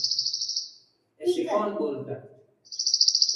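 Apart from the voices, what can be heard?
small bird chirping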